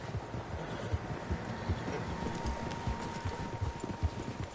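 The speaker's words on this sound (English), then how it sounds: "Horses, quite a few of them." Horse hooves clip-clop at an even walking rhythm, several animals moving together over soft ground, with a light wind in the background, in the video game Red Dead Redemption 2.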